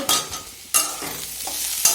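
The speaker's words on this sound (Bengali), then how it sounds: "আমার ছোট মেয়ের জন্য এখন আলু ভাজা করছি" Potato slices frying in a pan at home, with sizzling oil and several sharp scraping stirs from a spatula at intervals, close and fairly loud.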